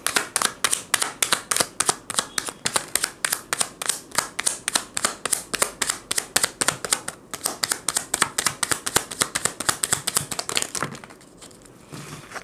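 Tarot cards are shuffled close up in a fast, steady run of crisp slaps and riffles that repeat many times. The sound tapers off and softens near the end.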